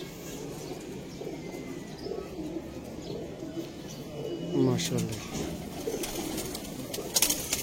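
Pigeons for sale in Sialkot coo softly in the background while someone talks over them, with occasional brief rustles and a few sharper bird sounds near the end.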